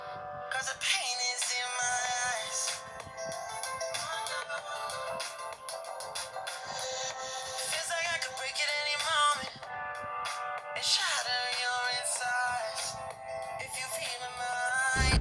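A ringtone plays loud and steady through the single bottom loudspeaker of a Realme Narzo 30A phone, a bright busy melody running without pause and with no talking.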